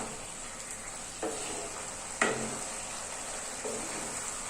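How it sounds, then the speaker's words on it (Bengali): Vegetables are stirred into spice masala in a kadai while making kadai paneer, with a constant frying hiss and a few distinct scrapes and knocks of the spoon against the pan, close by and without speech. "এবার সব সবজিগুলো মশলার মধ্যে দিয়ে দিতে হবে। এরপর হালকা হাতে বেশ অনেকক্ষণ নাড়াচাড়া করতে হবে।"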